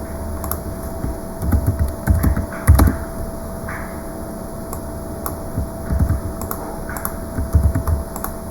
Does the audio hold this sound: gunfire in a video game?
no